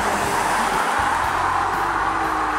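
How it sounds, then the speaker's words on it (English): A 2015 BMW X4 xDrive35i with its 3-liter engine on the move, a steady loud drone of engine and road noise with a low rumble throughout and no talking. "the sound of the 3-liter engine does not precisely sound like a badass sport vehicle"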